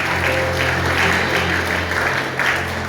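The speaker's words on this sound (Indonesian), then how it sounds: "Tepuk tangan buat Tuhan." Congregation applauding together inside a church, a steady wash of many hands clapping at close range for the full three seconds over a low, constant room hum.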